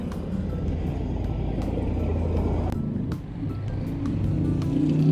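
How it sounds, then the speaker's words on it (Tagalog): Many cars pass along a busy road, a continuous rumbling stream of engines and tyres with occasional louder vehicles, heard from the roadside. "Daming sasakyan eh."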